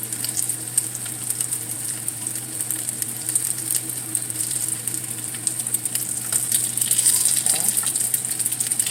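Salmon croquettes frying in a pan, giving a steady, even sizzle that carries throughout and grows slightly stronger toward the end, while a voice says a brief word.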